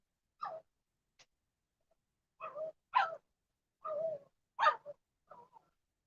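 A dog barks several times in a home livestream, faint and somewhat distant, giving short irregular barks with a few whimpering or yelping notes between them.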